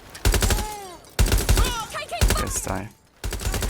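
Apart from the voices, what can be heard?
gunfire in the video game Watch Dogs: Legion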